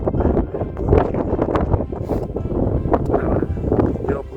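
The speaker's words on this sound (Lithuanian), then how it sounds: "Šaltas vėjas" Cold, gusty wind on Ha Ling Peak in Alberta, Canada buffets the microphone in loud, rumbling bursts, rising and falling unevenly.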